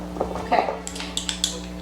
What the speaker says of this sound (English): First we are gonna cut the butter with pastry knife.